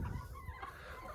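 Chickens and roosters in a mobile pasture coop, soft clucking and low fowl murmurs heard faintly and briefly nearby.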